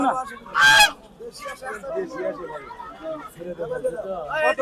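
Ducks and geese honk in a loud burst near the start at a busy duck and chicken market, followed by steady crowd chatter and more scattered bird calls.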